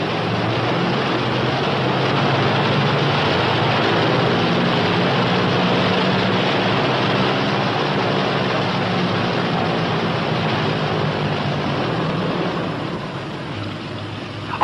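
P-61 Black Widow twin engines idle steadily after landing, a loud, continuous broadband drone with a low rumble that stays even before easing slightly near the end.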